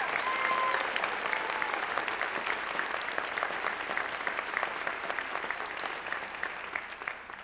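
A crowd at an education excellence celebration gives a sustained round of applause for the top five honorees, dense steady clapping that fades slightly toward the end.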